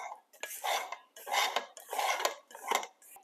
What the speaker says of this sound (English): Scrape the sides and the bottom so that everybody's invited to the party and that nobody's left out